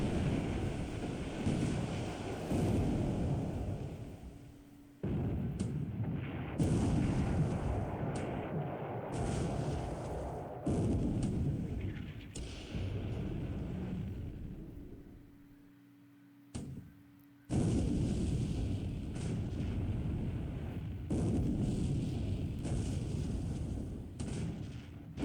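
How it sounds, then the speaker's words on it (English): Naval shellfire in the Pacific: AE war game, long roaring bursts of heavy gunfire and rumbling explosions broken by brief pauses, loud and continuous with no talk. "There was some light fire after this 1 5-inch shell hit."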